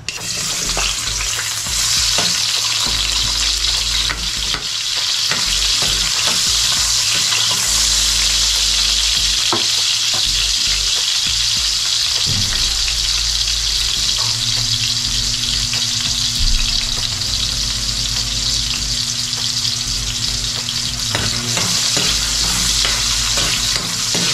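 Ginger sizzles loudly in a pan of frying cow skin, a dense, steady crackle with stirring scrapes and clinks on top, heard up close and without a break.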